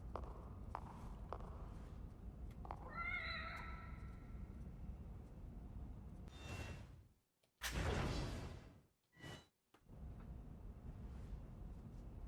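A cat in The Evil Within DLC gives a single short meow partway through, set among dark game ambience with soft footsteps and a few sharp whooshing swipes.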